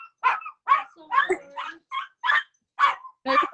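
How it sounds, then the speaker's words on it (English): Dog barking repeatedly in short, loud, evenly spaced barks at close range, about eight in a row, with no talk between them. "It's a dog."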